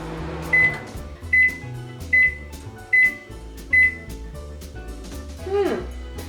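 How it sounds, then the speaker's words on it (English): Brand-new Panasonic NN-SN651B 1200-watt microwave oven with a spinning plate, sounding a steady run of five evenly spaced short beeps over a low hum, ending with a brief falling chime. "Since this is a 1200 watt microwave and it's brand new, let's start with 222 and see where that gets us."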